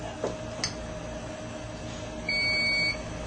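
Alarm beep from a Bondascope 3100 resonance bond tester, a steady electronic tone lasting under a second, clear over faint background hum with a couple of small clicks earlier.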